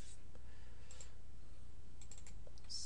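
Faint, scattered key clicks on a computer keyboard as a file name is typed, a few soft taps spread out over a quiet, hissy room with no voices.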